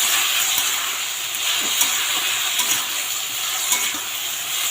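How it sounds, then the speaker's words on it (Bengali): Vegetables seasoned with salt and turmeric sizzle loudly in a pot for dalia khichdi, a dense continuous hiss broken by soft scraping stirs, with no voices. "তো সবজিটা নেড়ে এটা একটু আমি ঢেকে দেব"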